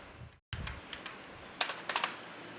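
A computer keyboard clatters with scattered key presses, including a quick burst of taps near the end, as a search is typed into a Firefox browser.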